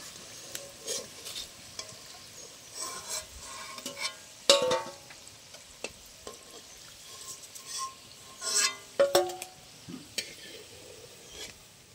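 Khaja sweets deep-fry in oil, giving a low, steady sizzle broken by scattered louder clatters and stirring scrapes, heard up close with no talking.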